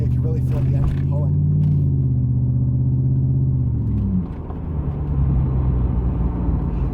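A low, steady engine hum from a 1994 Mercedes E500 pulling on a back road rumbles throughout, rising slightly then easing, with a faint voice over it early on.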